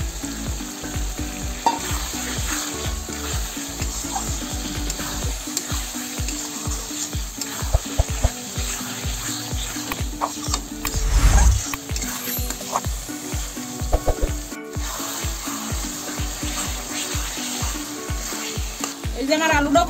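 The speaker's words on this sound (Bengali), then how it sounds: "আমি এর ভিতরে এই ভাজা আলু কটা দিয়ে আর একটু ওই আলু কটা কষাই না।" Fried potatoes being sautéed with salt, ground spices and a spoonful of water in a pan for a hotel-style potato and eggplant curry, sizzling steadily with repeated scraping stir strokes throughout, close and loud, no talking.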